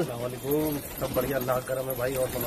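Pigeons kept by a fancier coo repeatedly in short rolling phrases close by, while men greet each other and chat in Hindi over the birds.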